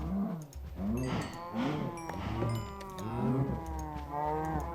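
Several cows in Minecraft moo in overlapping, drawn-out calls, one after another, loud and close with no break in the lowing.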